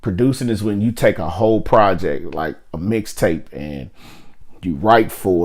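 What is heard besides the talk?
None of the usual background noises is heard.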